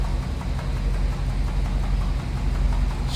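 A 1956 Ford Thunderbird's engine idles steadily, its exhaust exiting through the rear bumper, giving a continuous low rumble with a faint rhythmic pulse at close range and no talking.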